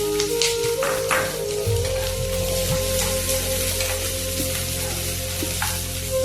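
Onions frying in oil in a pan for a capsicum and paneer curry, a loud, steady sizzle filling the whole stretch with occasional stirring taps and a faint tonal hum underneath.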